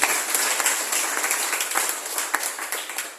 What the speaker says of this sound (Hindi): क्यों ना प्रभु के लिए हम एक तालियां बजा दें।